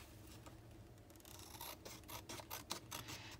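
Scissors snip and rasp through a postcard being trimmed for a travel scrapbooking junk journal, a few quiet cutting strokes in a row with no one talking.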